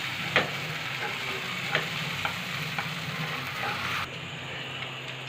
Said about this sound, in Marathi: आता त्यात टमाटा आपण भाजून घेणार आहे छानपैकी.